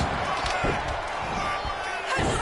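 A wrestler is slammed into the mat in WWE 2K26 gameplay, giving a few heavy thuds over crowd noise and game sounds, with commentary-style talk running underneath.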